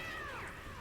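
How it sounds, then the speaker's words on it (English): An upset cat in a video game lets out a single drawn-out, descending meow, heard close and clear. "I love the animation of the cat being extremely upset with being,"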